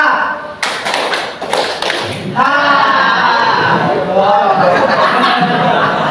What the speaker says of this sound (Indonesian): Nah, kemudian tepuk H.